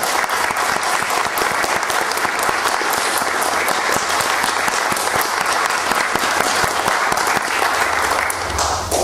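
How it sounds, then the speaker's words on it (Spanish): Audience at a district citizen security committee meeting gives loud, sustained clapping that carries on evenly for several seconds. "Quiero pedir un aplauso en ese sentido."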